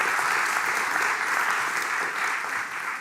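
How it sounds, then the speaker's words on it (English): A lecture-hall audience at a Dutch graphic design evening breaks into sustained, even applause, a dense, loud wash of many hands clapping throughout. "Applause."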